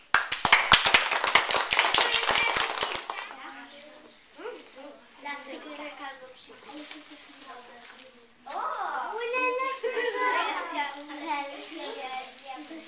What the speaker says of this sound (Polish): Brawa, Tosiu, dla ciebie.